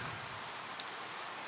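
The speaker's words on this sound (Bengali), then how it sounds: "সাথে ছিঁড়ি ছিঁড়ি বৃষ্টি" Light rain falls steadily on a rainy morning around a flooded railway station, a soft continuous hiss with a few faint drop ticks and no voices.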